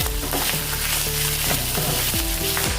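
Mustard seeds, sesame seeds, curry leaves and green chilies sizzle loudly in hot oil, a constant dense crackling hiss with steady popping, close and alone, with occasional tonal clinks underneath.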